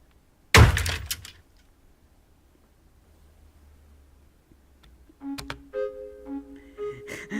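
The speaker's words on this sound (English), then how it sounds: "Yay, bridge breaking! My bridge finally broke." A bridge breaks with a sudden loud crack and thunk, followed by a few seconds of near quiet, then scattered clattering and rustling debris sounds close by.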